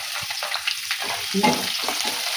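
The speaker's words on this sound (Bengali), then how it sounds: "তারপরে এর মধ্যে আমি পেঁয়াজ কুচি দিয়ে দেবো" Chopped onions hit hot oil already seasoned with bay leaves and dried red chillies, giving a close, steady sizzle with scraping stirs for rice dish preparation.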